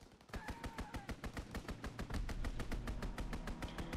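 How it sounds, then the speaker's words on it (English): An enemy aircraft strafing run in Call of Duty multiplayer: a long, fast, evenly spaced burst of heavy gunfire, each shot sharp and loud, with deeper impact rumble building in the second half. "Enemy strafing run inbound!"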